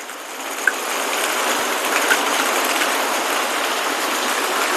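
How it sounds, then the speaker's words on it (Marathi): Heavy rain falls outside in a steady, dense hiss that stays even and unbroken throughout, with a couple of faint clicks and no talking. "आता बाहेर इतका पाऊस सुरू झालाय"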